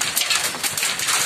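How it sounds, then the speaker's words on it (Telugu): Hailstones pelt down during a thunderstorm in Sathupalli, Khammam district, a dense, steady rattling patter close by with no voices. "ఉరుములు మెరుపులతో కూడిన రాళ్ల వర్షం"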